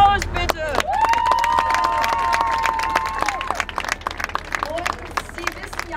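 A large crowd gathered outdoors on the Hochstraße in Halle (Saale) claps steadily, with the sharp claps heard under a speaker's amplified voice.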